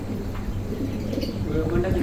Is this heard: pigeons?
yes